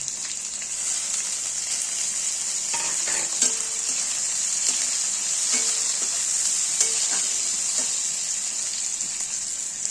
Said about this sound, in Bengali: দিয়ে আমরা একটু ভালো করে নাড়িয়ে 1 থেকে 2 মিনিটের মতন ভেজে নেব